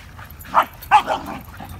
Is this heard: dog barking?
yes